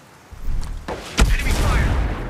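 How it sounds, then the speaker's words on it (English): A frag grenade explosion in the video game Ghost Recon Breakpoint, a sharp thump followed by a heavy boom that rumbles on, amid other game sounds. "Frag grenade going out!"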